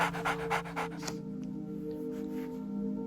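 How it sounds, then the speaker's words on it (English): A brand new puppy pants rapidly and close by in short breathy bursts for about a second, then falls quieter under a soft steady background drone. "Look who's just arrived today. A brand new puppy."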